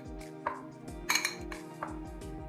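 Clinking and scraping of a utensil against a bowl as a lemon juice and soy sauce marinade is stirred, with several bright metallic knocks over a steady low hum.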